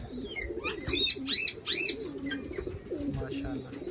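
Pigeons kept by a longtime fancier coo close by in low, rolling, repeated calls, while sharp chirps and other bird calls break in over them and people talk in the background.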